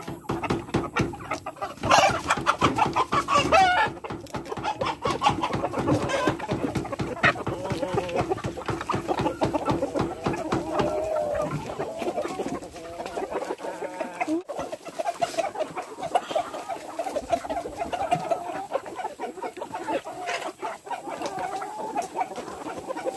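Heritage free-range chickens on a farm cluck and murmur continuously nearby, a busy flock chattering with sharper calls early on and softer clucking toward the end.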